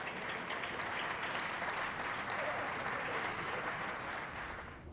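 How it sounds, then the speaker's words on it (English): An audience at a Porsche Supercup award ceremony claps steadily, a dense, even wash of applause that fades slightly at the end. "I would like to ask you for a big applause for MAS GT Racing and Project One"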